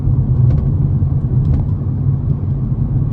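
A 2009 Aston Martin DB9 cruising in fifth gear, heard as a steady, loud low engine drone and road rumble that holds an even pitch throughout, with no talking.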